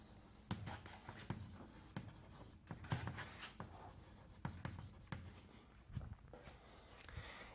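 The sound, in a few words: writing on a board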